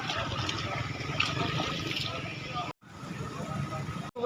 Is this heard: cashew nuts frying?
no